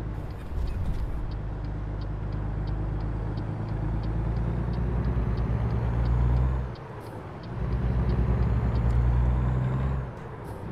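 A heavy truck engine in American Truck Simulator rumbles loudly and steadily, with a brief dip near seven seconds before the low drone returns, and faint regular ticking clicks run above it throughout.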